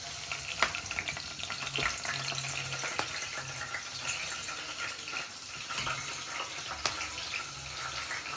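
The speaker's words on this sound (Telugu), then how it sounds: "ఇదిగోండి మిర్చి అయితే వేపుకుంటున్నాను ఫస్ట్" Chilies fry in a pan for a traditional gongura and prawn-shell chutney, giving a close, steady sizzle with occasional sharp pops and faint stirring sounds.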